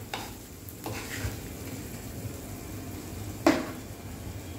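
Spoon stirring spiced potato filling with red and green chilies in a pan, a soft scraping and faint sizzle running steadily at close range, with one sharper knock of utensil on pan near the end and no voices.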